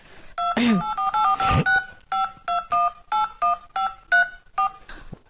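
A rapid run of telephone keypad tones, about ten short beeps in a steady rhythm, close and clear, with a brief voice sound near the start.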